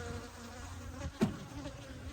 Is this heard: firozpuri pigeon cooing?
no